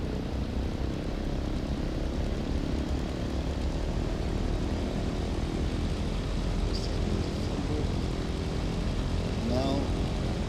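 A DC-3 propeller aircraft taxiing in a flight simulator game, a continuous droning engine hum held at an even level, with faint brief tones near the end.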